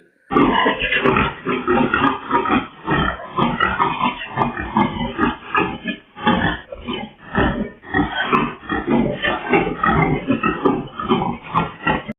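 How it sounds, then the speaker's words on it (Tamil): A wild boar grunts repeatedly and loudly in a village near Kotagiri while chasing a leopard, with dense, rough, continuous snorting calls close to the pickup and no speech. "காட்டுப்பன்றி சிறுத்தையை விரட்டிய சிசிடிவி காட்சி"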